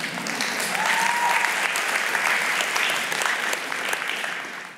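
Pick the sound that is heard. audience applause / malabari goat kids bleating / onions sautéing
audience applause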